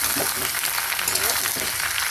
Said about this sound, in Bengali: আলুটা আর পেঁয়াজটা একটু ভাজা ভাজা হবে